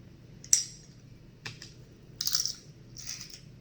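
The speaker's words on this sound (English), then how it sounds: "You just put it right in the garlic press, and there it is." Fresh garlic is squeezed through a garlic press for guacamole, giving a few faint, scattered close-up crunches and metallic clicks spread over a few seconds in an otherwise quiet kitchen.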